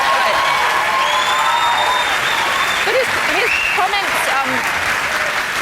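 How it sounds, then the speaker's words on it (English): A crowd applauds loudly and continuously, a dense wash of clapping with a few whistles and faint voices mixed in throughout. "A lot of applause."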